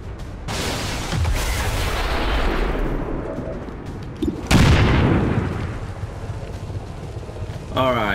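Grenade explosion in the video game XCOM 2, a heavy boom that bursts out loud and then rumbles away, with a second blast partway through, all over sustained game noise.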